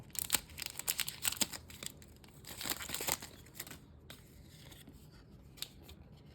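A Pokémon card booster pack being torn open: crinkly foil rips and crackles in quick close bursts that taper into quieter rustling, no voices.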